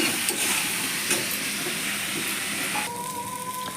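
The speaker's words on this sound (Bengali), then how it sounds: "এবার এটাকে ভালো করে ভাজা ভাজা করবো।" Taro pieces sizzle in hot oil with salt and chilli powder, a steady close frying hiss running throughout with faint crackles, and a brief higher tone joining near the end.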